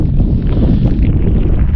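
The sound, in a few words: strong mountain wind blowing on the microphone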